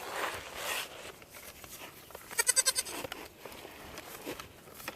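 A goat gives a short series of bleats midway through ear tattooing, close and moderately loud, set against low background handling noise and rustling.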